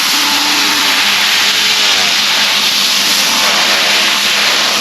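Compressed air hisses steadily and loudly at close range, spinning a fiberglass roller used for building fiberglass parts, with a continuous broadband rush and a faint rising whir underneath, no one speaking.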